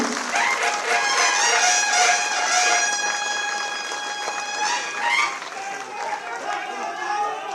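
A standing audience at a political event applauds to welcome Devendra Fadnavis, sustained dense clapping with crowd noise and a steady tonal line running through it, easing slightly toward the end.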